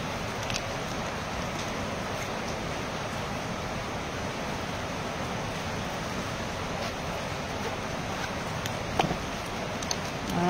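Steady rain falls continuously with a soft, even hiss, with a few sharper drips and taps standing out near the end.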